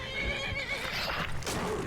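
A horse whinnying close by, a loud wavering neigh lasting about two seconds, with faint hoof clops beneath.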